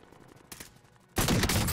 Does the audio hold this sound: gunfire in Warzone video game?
yes